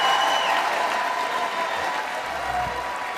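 Applause from the chamber audience at the 2024 State of the Union address, a steady wash of clapping at moderate distance that holds evenly for a few seconds without pauses.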